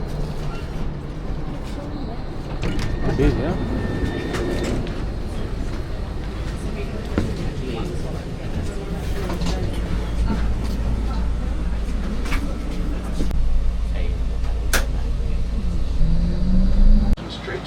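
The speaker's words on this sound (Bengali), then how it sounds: "তো এই যে ট্রামে করে আমরা যাচ্ছি" A free Melbourne tram ride, heard from inside as a steady low rumble and rolling noise that persists throughout, with scattered clicks and rattles and a faint background hum.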